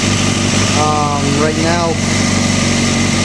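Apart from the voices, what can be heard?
motorcycle engine idling quietly after cam chain tensioner adjustment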